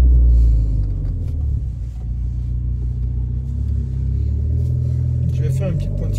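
A Renault Sport car engine running close by, heard from outside the car as a deep steady rumble with a slight rise in revs, while someone talks over it.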